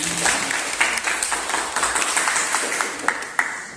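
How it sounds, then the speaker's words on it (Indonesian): Classroom applause from a group of students, a short burst of brisk clapping that stays fairly even, with a few distinct claps standing out toward the end. "Bagus sekali tepuk tangan."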